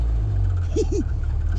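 A Mini Moke with a four-speed gearbox pulls away under power, its engine giving a steady, loud low rumble from close by, with a couple of brief vocal sounds partway through.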